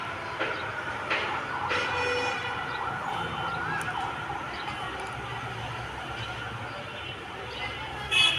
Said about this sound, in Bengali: মনে হচ্ছে ফায়ার সার্ভিস দৌড় দিয়েছে